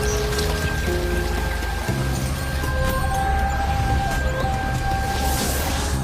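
Monsoon rain pours steadily onto parched ground in a forest park, a dense continuous patter with faint tonal calls drifting through the background.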